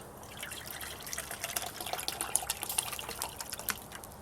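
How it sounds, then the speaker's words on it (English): Water poured from a container into a can set on a small wood-fired hobo stove, a faint irregular trickling and splashing with brief drips, heard close up and alone. "I'll pour water in here."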